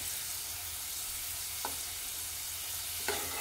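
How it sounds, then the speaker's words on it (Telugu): Onions fry in a pan with a steady, close sizzle, while two brief scrapes of a spoon stirring them stand out over the continuous hiss. "ఎల్లిపాయలు అయితే కొంచెం ఇంకా వేగాలి, కొంచెం బ్రౌన్ కలర్లో అయితే రావాలి."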